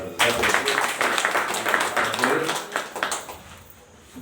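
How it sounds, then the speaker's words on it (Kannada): Applause from the audience at a religious discourse, a Sharif Shivayogi Purana pravachan at Shri Math Chabbi, a dense close burst of clapping that rolls on for several seconds, then thins and fades out. "ಜೋರಾದ ಚಪ್ಪಾಳೆ"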